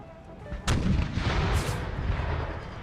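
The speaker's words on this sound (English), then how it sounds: "Canister shot doing some damage" A cannon fires canister shot in a battle from an Empire: Total War mod set in the American Civil War, a sharp loud blast followed by a rumbling tail that carries on under continuous distant battle noise.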